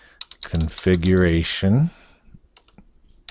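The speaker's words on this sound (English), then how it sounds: "now is where I type PERL" Someone types commands on a computer keyboard, a brief spoken word followed by a few light, scattered key clicks close by.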